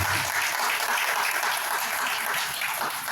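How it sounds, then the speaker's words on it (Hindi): A crowd at an International Women's Day award ceremony applauds loudly and continuously, a dense, even wash of clapping close by with no break. "उसके लिए एक बार जोरदार तालियां जरूर होनी चाहिए"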